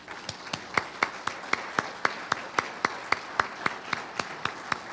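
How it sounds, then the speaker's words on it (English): An audience applauds presenters at the close of an event, with evenly spaced, crisp claps repeating at a steady brisk rhythm and no talking over them. "One more round of applause to our presenters."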